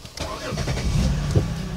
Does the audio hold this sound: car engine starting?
yes